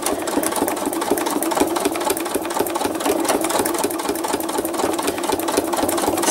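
A sewing machine stitching thread art runs loud and close, a continuous rapid mechanical chatter with a steady rhythm throughout.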